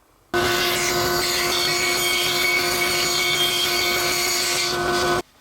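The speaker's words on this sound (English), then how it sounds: "We also need another circle to be cut, and it will also be out of 3/4 inch thick plywood" A circle is cut from 3/4 inch plywood for a 13-inch disc. The cut makes a loud, close, steady grinding whine that starts abruptly, holds for about five seconds and then stops sharply.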